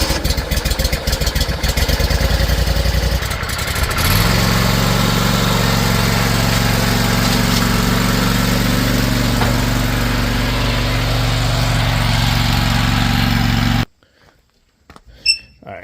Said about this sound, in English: This is the 888. This is a carbureted engine.